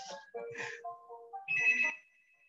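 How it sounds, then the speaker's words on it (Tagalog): A telephone ringtone plays a short melodic electronic tune, a few bright notes rising and falling, heard clearly on its own with no talking. "sorry, may telepono."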